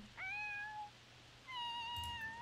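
A cat in The Sims 4 video game meows twice, two clear, drawn-out tonal calls separated by a short pause, close and distinct over a quiet background with no talking.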